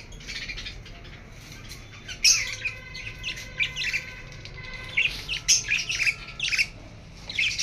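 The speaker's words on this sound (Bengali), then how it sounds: "পাখিগুলো মারামারি করছে" Pet lovebirds fight and squawk in sharp, harsh bursts of chirps and screeches, several close clusters breaking out over a quiet room background, loudest in the second half.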